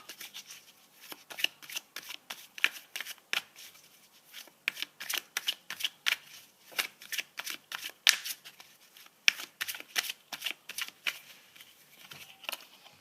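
Tarot cards being shuffled in the hands: a long run of quick, crisp riffling bursts in a loose, uneven rhythm, close and fairly soft, with no voices.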